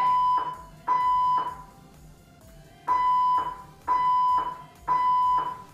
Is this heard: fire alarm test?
yes